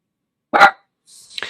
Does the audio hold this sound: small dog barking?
yes